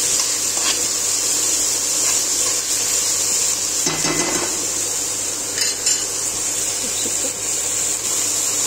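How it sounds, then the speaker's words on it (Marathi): Capsicum and onion sauté in a pan for pav bhaji, giving a steady loud sizzle close up, with a few scrapes and clinks of a spoon stirring against the pan. "यामध्ये शिमला मिरची पण घालून घेतलेली आहे. ती पण छान परतू द्यायची आपल्याला."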